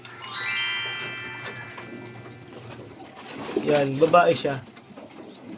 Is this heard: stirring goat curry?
no